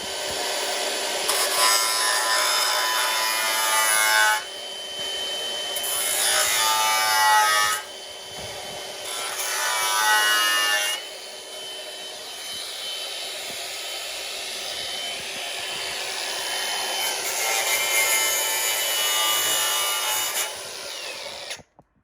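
A power grinder whines and rasps against a Renault Clio 197's car body metal in several long, loud bursts close by, with brief pauses between passes.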